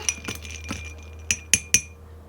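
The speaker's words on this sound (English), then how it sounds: "And then just give it a bit of a stir." A spoon stirs a drink in a glass, giving about six sharp, close clinks at irregular intervals, the last few louder and ringing.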